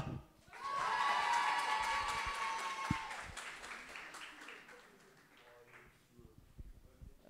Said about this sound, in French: Et donc, un tonnerre d'applaudissements pour Dina.